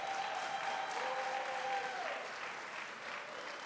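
Crowd applause at a Juneteenth Freedom Day kickoff celebration, a steady wash of clapping that holds for several seconds and tapers slightly near the end.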